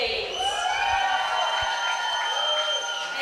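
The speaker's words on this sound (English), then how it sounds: "Big applause there for Iona Logan, City of Leeds" Spectators at a regional age-group swimming championship in an indoor pool applaud swimmer Iona Logan of City of Leeds, a fairly faint, steady spatter of clapping blended with high-pitched shouts and cheers.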